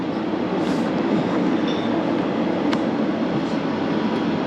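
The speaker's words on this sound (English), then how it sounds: "And I think this train for Portsmouth is leaving." A train bound for Portsmouth and Southsea pulls out of a platform at Southampton Central, giving a steady, loud rumble with a faint wheel squeal partway through.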